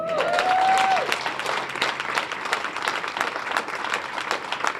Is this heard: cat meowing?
no